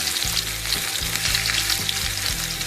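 Mustard seeds and sliced onion sizzle steadily in hot oil in a pan, with an occasional scrape and stir from a spatula, close and continuous, with no voices.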